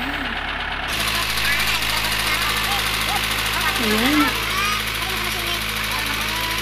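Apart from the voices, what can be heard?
borewell drill truck engine starting and running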